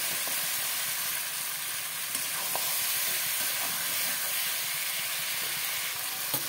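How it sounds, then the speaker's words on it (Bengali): Hot water poured onto frying country chicken in a pan gives a steady, loud, close hiss and sizzle of steam that runs unbroken throughout, with no talk. "চিকেনটা ভালো করে কষানো হয়ে গেছে, দিয়ে দেবো গরম জল।"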